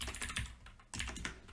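Rapid keystrokes on a computer keyboard while entering Python code, close and clear, in quick irregular bursts with a short pause midway, no voices.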